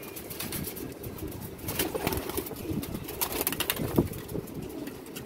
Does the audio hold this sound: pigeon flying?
yes